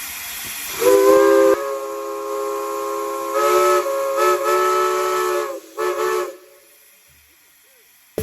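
A B&O three-chime steam whistle at a railroad festival, sounded in several long and short blasts with a rich multi-note chord and steam hiss, loud and close, ending in quiet.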